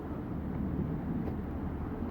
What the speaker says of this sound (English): That's the train coming in.